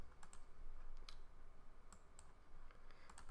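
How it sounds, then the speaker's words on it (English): Code is typed on a computer keyboard in quick, quiet bursts of key clicks over a low steady hum. "I type a little code, I test it."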